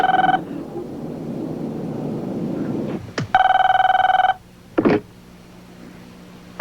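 An old telephone bell rings in two long, loud bursts with a pause between, in a sitcom office scene, followed by a couple of short bumps and quiet room tone.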